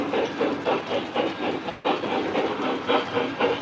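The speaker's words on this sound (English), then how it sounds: "let's get the CNJ engine rolling again" A CNJ engine rolls along the track with steady rhythmic clatter and hiss, a brief dip near the middle, continuous and fairly close.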